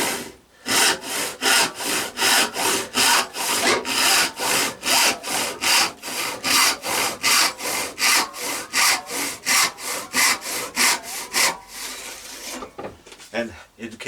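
A restored Sandvik No 277 hand saw cuts through wood in a steady run of about two dozen strokes, each rasping pass loud and close, the rhythm faltering near the end.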